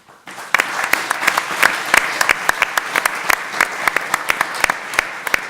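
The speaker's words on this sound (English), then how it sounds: "You may give her an applause." An audience at a European BPM round table panel claps for a panel member, steady applause rising after a brief quiet start and continuing with sharp individual claps standing out.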